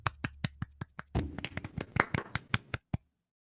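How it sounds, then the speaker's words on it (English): A small handful of people give a brief, sparse round of clapping for a club audience, with distinct separate claps that thicken for a moment and then stop abruptly into silence. "Can we get a small applause for capitalism?"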